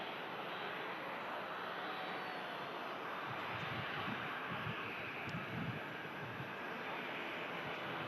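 A Qatar Airways aircraft flies over, a faint, distant engine drone holding steady with soft low rumbles toward the end, heard without voices.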